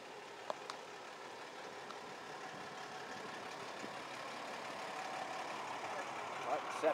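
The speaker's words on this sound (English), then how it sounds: "Oil truck." An oil truck's engine idles outdoors with a steady, moderately distant rumble that grows slightly louder toward the end, joined by a few brief knocks and faint voices.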